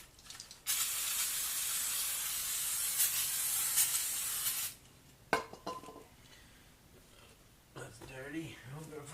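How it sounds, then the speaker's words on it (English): Carby throttle body cleaner sprays onto a Subaru engine in one steady, loud hiss lasting about four seconds, then cuts off, leaving quieter rustling and a voice speaking near the end. "I'm using Carby throttle body cleaner. Clean it up a bit."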